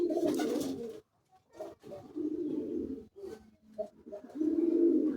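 Pigeons kept as a collection of colored fancy breeds coo in several close, low, throaty bursts separated by short pauses, with no talking.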